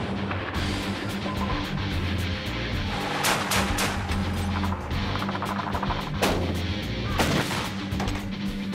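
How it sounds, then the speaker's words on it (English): 500-pound bombs dropped by F-18 jets explode on targets in a combat strike, a dense roar of heavy blasts with repeated sharp bursts over a constant loud rumble. "Forward air controllers call in a strike by F-18s. 500-pound bombs crash into their targets."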